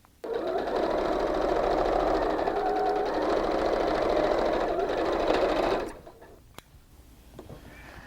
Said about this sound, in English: I'm going to take this piece and lay it over the other and bring my edges together, and I'm going to re-sew this.